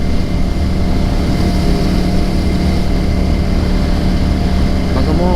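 A motorcycle with an oil leak, rarely used, idles loudly and steadily close by, its constant engine drone filling the scene without pause.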